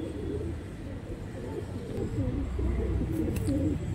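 Breeding pairs of pigeons cooing steadily, a dense overlapping murmur of low coos from several birds close by, continuous throughout with no talk.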